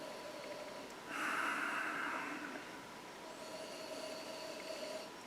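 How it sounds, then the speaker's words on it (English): A close, forceful sniff at a whisky glass lasting about a second, followed by quiet room tone and faint breathing. "Even though I'm sniffing as hard as hell"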